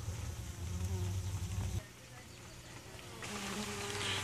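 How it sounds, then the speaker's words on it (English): Honeybees in a thick, solid cluster at an outdoor hive buzz in a low, steady drone as light rain begins. The hum shifts in loudness as the listening position changes, and a voice is faintly present. "That's like a solid mass of bees right there."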